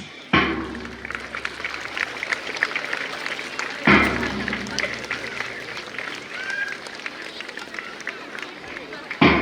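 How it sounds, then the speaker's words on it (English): Bursts of applause from parents at a school sports day, with two loud onsets of clapping that swell and then settle into sustained hand-clapping. "Parents, please encourage our students by clapping your hands."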